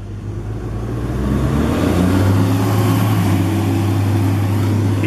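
Halifax Transit city bus pulling away, a loud, close, continuous engine rumble that swells as it accelerates and then holds steady, with no talk over it.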